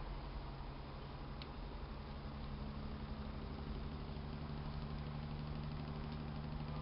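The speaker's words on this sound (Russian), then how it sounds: "Моторчик пошел, тянет некоторую нагрузку." A small motor runs under load, giving a steady, even hum with a low drone that stays constant throughout, close and alone with no voices.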